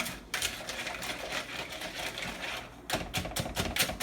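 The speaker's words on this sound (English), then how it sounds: "I'm gonna mix it all in, just with the whisk." Broken matzah being whisked into beaten egg in a bowl, a close, steady run of quick clicking and tapping strokes with a brief pause near the end before the rhythm resumes.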